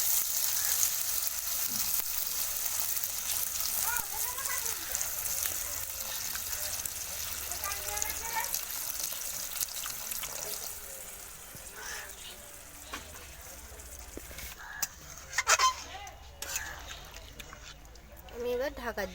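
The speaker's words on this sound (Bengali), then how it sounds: "এবার আমি জল দিয়ে দেবো।" Water poured into a pan of frying mutton curry with potatoes, a bright sizzling hiss that fades into softer bubbling and clatter, while someone talks over it.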